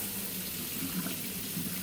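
Hot water runs steadily from a tap into a sink, ready for soap and cleaning the greasy tuning condenser of a 1937 Westinghouse WR-212 radio chassis. The close, even rushing stream continues unbroken throughout.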